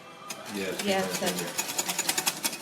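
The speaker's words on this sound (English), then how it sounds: "I'm just going to give it another quick whisk just to make sure that everything's dissolved" An electric whisk whirs through gelatine mixture for marshmallows, a rapid rhythmic buzzing that pulses steadily after people speak over its start.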